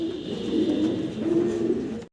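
Pigeons of the Bombay and lace satinette breeds coo nearby in two soft, low rolling phrases, ending abruptly.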